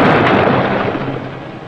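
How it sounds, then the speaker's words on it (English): A loud explosion near a WWII submarine, a dense, rumbling blast that starts at full force and slowly rolls off over under two seconds, with no voices. "Lucky the explosion was vented upwards."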